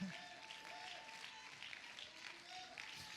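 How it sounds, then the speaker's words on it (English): A church congregation claps hands together, a continuous rattle of many palms heard at moderate distance, with faint voices and tones rising from the crowd beneath it. "You keep clapping your hands."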